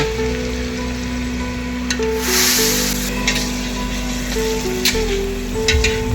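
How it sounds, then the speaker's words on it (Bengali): Pieces of pointed gourd frying in oil, a large batch for 200 people, give a soft, steady sizzle with occasional crackles and stirring, under a faint background hum. "এখন পটলগুলো সুন্দর করে ভাজতে হবে"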